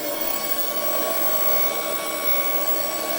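A Shark ionFLEX cordless vacuum cleaner runs steadily and loudly up close, a constant high-pitched motor whine over a broad rushing airflow hiss.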